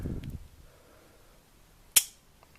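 A single sharp, bright click-snap from the front guns of a Corgi 271 James Bond Aston Martin DB5 toy car, preceded by faint handling noise.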